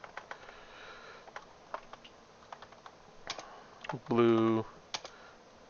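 Fingers type on a computer keyboard in scattered bursts of light clicks, close and moderately loud, while a voice briefly speaks over it.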